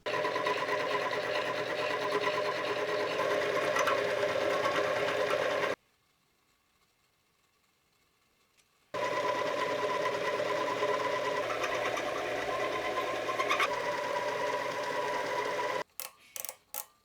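Lathe finish-machining two bores in a workpiece with a boring head held in a collet chuck, a steady close mechanical whir running continuously, cutting out for about three seconds mid-way, then resuming before a few short knocks at the end.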